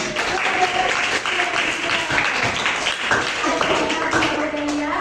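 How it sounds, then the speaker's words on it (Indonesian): Quiz participants clap for the winners, a spread of close, uneven handclaps with chatter and voices mixed in. "tepuk tangan"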